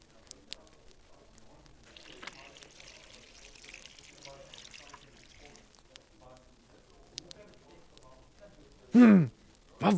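Water pours softly onto a flower, a faint trickle running beneath light talk before louder clunks close things out.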